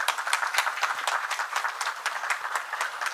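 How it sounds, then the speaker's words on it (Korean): An audience at a Korean temple-food symposium claps steadily throughout in a light, even patter of many hands, fairly soft and with no voices over it. "박수로 환영해 주시기 바랍니다"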